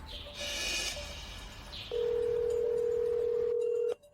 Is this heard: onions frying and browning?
no